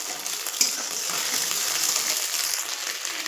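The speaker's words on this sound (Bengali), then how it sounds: "চাউমিন করবো বলে এখানে ডিমটাকে ভেজে নিচ্ছি।" An egg frying in a pan for chow mein gives a steady, close hiss and sizzle that runs unbroken, with a faint scrape near the start.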